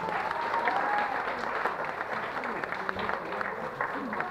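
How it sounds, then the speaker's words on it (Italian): Campsite group applauding after a player is eliminated in musical chairs, a lively burst of clapping from a nearby crowd with voices talking over it. "La prima eliminata, un applauso."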